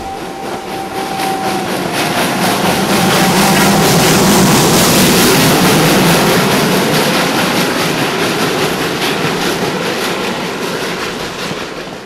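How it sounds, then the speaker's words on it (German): A special Nikolaus-season train in Czechia pulls out of a station, its loud rumbling roll and clattering wheels swelling as it passes close by and then easing slightly, with no voices. "als wir die Abfahrt des Zuges filmten"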